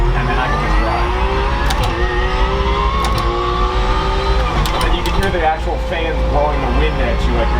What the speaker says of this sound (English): you can hear the actual fans